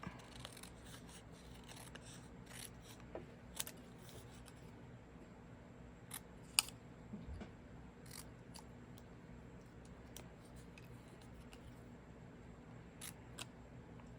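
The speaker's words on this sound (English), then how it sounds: "Grab some of your pages and your stamped words. You're going to trim them out." Scissors snip through stamped paper pages in a quiet room, faint close cuts and paper rustles recurring irregularly with a few sharper clicks.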